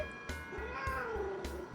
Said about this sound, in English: That's an annoyed kitty